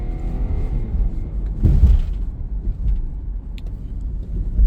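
A Hyundai Santa Fe V6 engine runs steadily while driving, giving a continuous low rumble with a brief louder swell partway through, heard close and alone.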